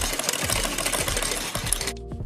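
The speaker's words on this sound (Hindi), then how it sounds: "पूरे गले पर बुकरम के बिल्कुल बराबर बराबर में इस तरह से सिलाई लगाते चले जाएंगे।" A sewing machine stitches buckram along a garment neckline in rapid, close, continuous bursts, then stops abruptly near the end.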